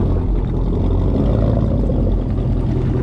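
Deep, loud engine rumble of a lifted, squatted Chevy Avalanche truck on a test drive, heard up close as a steady low drone throughout.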